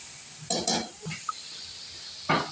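Capsicum and green chili being stirred into a mixed-vegetable curry (salan) with garam masala in a pan: a few short, close scraping strokes in separate bursts, with quiet pauses between them.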